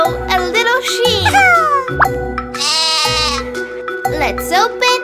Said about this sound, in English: Oh, a little sheep.